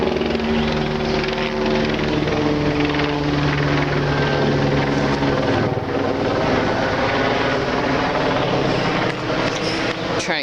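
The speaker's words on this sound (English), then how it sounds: "let this helicopter go by." A helicopter passes overhead with a loud, steady rotor thrum and engine drone that holds for the whole stretch, with no talking.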